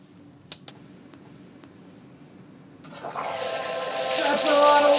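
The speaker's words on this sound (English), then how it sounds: "His job is to dump a gigantic amount of water on you really fast." An emergency safety shower in a chemistry lab releases a sudden heavy rush of water, building from a quiet room into a loud, sustained broadband gush that grows stronger toward the end, with faint clicks before it starts.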